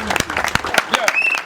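Audience at a political rally bursts into brief, energetic applause, clapping mixed with shouts and excited voices, loud and close.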